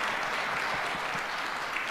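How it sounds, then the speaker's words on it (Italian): Brief burst of steady, dense applause from an audience at a press event at the BIT tourism fair in Milan, continuous and fairly even in loudness. "Applauso a tutti,"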